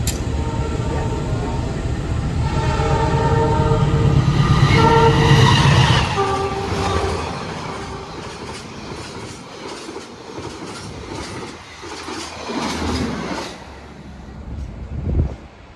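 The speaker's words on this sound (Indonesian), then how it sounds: "Ngebut banget kereta api Lodaya Tambahan berjalan langsung di jalur 2." A Lodaya Tambahan passenger train speeds straight through on track 2 at an Indonesian station, a loud rushing roar with rhythmic wheel clatter and a horn, swelling then fading as it passes, with no talk.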